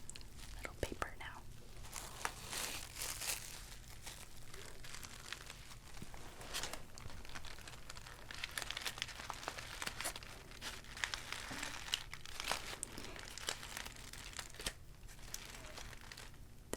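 Packing paper crinkles and rustles steadily through an unboxing, close and soft, in a series of crisp crackling handfuls. A quiet voice speaks softly now and then.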